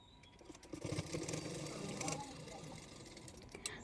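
Sewing machine stitching the hook strip of a bra-cut blouse, a steady close mechanical whir with fine ticking running through the whole stretch, softening slightly toward the end.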